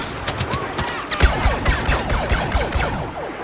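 Rapid bursts of cannon fire and explosions crackle in quick succession in Star Wars Battlefront, loud and continuous, with electronic game effects sweeping through.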